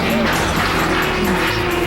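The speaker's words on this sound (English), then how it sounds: "you can hear the car smash into the railing" A race car loses control and smashes into a railing right beside the track, heard as a loud, close, harsh roar of engine and scraping that stays dense through the whole moment.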